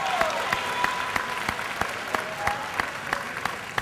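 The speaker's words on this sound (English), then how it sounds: "Give them another round of applause." Audience applause at a Job Corps graduation ceremony in Atlanta, a sustained wash of clapping with sharp individual claps standing out, steady and fairly loud throughout, with faint voices mixed in.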